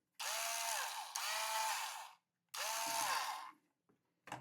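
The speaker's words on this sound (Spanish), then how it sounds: "todavía lo he estado usando el taladro y ha quedado bien, aguanta" A repaired 12 V cordless drill running on a 21 V lithium battery whirs in two short bursts, each spinning up and winding down, followed by a faint clicking afterward.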